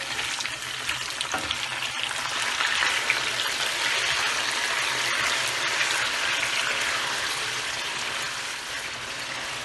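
Chicken pieces frying in a pot of hot oil with garam masala for white biryani, giving a steady, dense, loud sizzle that holds throughout with no talk.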